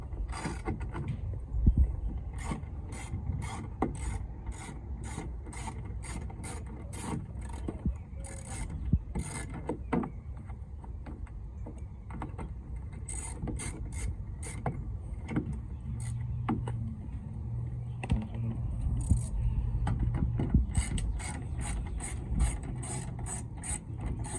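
A wrench ratchets out 7mm screws from a side mirror on a 2005 Ford F250 XL, giving repeated quick clicking bursts in uneven runs over a low background hum, close and fairly quiet.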